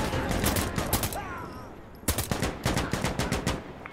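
Video-game gunfire crackles in loud, rapid bursts of automatic shots, pausing briefly before a second string of close firing, with a voice faintly heard between them.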